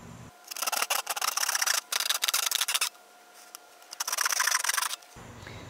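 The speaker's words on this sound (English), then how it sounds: "Now we'll use our handsaw to cut out our marking." A handsaw cuts through a plastic bucket along a marked line, giving bursts of close, rasping strokes in quick rhythm, with a short pause in the middle before the sawing resumes.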